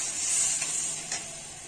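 Water poured into spice paste frying for a piyali fish curry gives a steady bright sizzle and hiss, close and moderately loud, with a couple of brief sharper spits.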